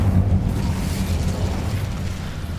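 A fire spell cast in a Harry Potter–style video game bursts into a loud, sustained fiery explosion, a dense low rumble that roars steadily for a couple of seconds with no voices over it.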